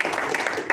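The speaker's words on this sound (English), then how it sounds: "Let's give a round of applause." Applause breaks out for a speaker being welcomed on stage at an Indonesian sustainable-investment event, a dense, steady patter of clapping from a crowd throughout.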